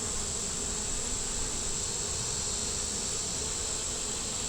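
Honey bees buzz steadily and densely around an open hive frame, a continuous close swarm drone with no voices.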